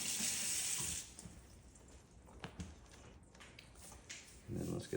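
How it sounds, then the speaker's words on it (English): Tap water runs loudly for about a second as a hand is rinsed under it, then drops away to quiet handling noise before another short burst of running water at the end. "Quick rinse of the hand."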